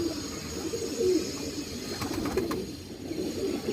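Breeding pigeons cooing softly in a loft, a low steady murmur of coos running throughout, moderately close with faint background noise.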